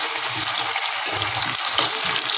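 Hilsa fish frying in a pan with vegetables, giving a steady, close, continuous sizzle and crackle with soft stirring movements and no voices.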